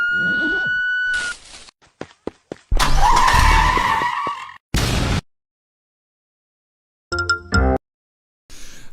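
A video game car race with cars skidding: loud electronic engine drones and tire screeches in choppy bursts, broken by abrupt silent gaps and short synthetic tones.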